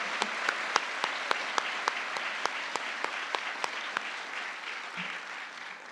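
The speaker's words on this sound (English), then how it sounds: "Please join me in giving these authors and translators a huge round of applause." Audience applause for the authors and translators at a national book awards finalist reading, a dense steady clapping crowd with sharper individual claps standing out, sustained throughout at moderate level.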